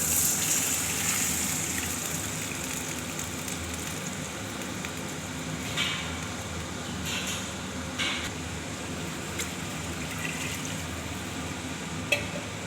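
About one and a half litres of water pours and gushes into a cooking pot with a steady rushing flow, followed by intermittent splashes and a sharp clink near the end.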